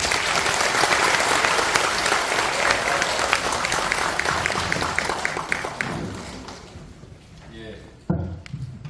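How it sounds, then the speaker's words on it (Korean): A room full of attendees at a policy forum in the National Assembly greets an arriving lawmaker with loud, sustained applause that gradually fades away, followed by a single dull thump. "큰 박수로 맞이해 주십시오."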